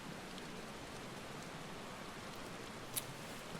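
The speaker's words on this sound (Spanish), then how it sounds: "Quiero lluvia, pues aquí está lloviendo ahora mismo." Steady rain falls in Final Fantasy XVI, a soft even hiss of drops on surfaces that runs unbroken throughout, with one faint brief click near the end.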